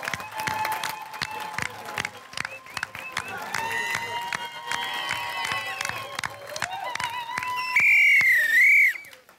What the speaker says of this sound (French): j'aimerais ça qu'on leur donne une bonne main d'applaudissements